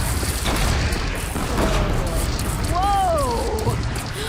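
A bridge comes crashing down in Horizon Zero Dawn, a continuous heavy rumble and crash of collapsing debris filling the scene, with a creature's wavering cry rising over it near the end.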